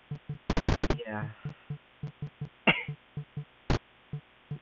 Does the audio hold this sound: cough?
yes